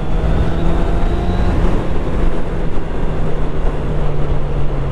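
A QJ Motor SRK 800RR sport-touring motorcycle accelerates on the road, giving a steady, loud engine drone mixed with wind rush that holds for the whole stretch, with no talk.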